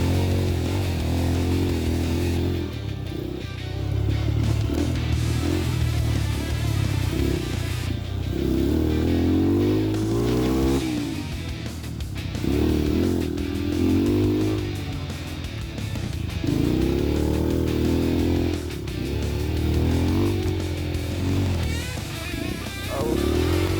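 A dirt motorcycle is pushed hard at full throttle on a rough mountain trail on Gunung Guntur, with a loud, steady engine roar that surges and dips as it climbs and accelerates, close up and continuous.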